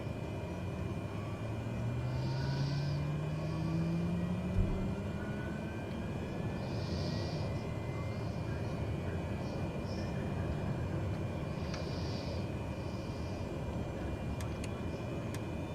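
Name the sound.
Diamond DA40NG aircraft engine starting, from video game flight simulator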